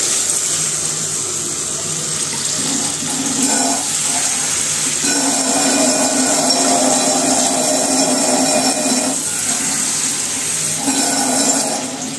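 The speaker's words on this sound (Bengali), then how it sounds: "এখন ঝোলের জন্য জল দিয়ে দিব" Water runs steadily from a tap or jug into a pot of cooked-down spices and chillies for a puti fish curry broth, a continuous close pour lasting the whole stretch with no talking.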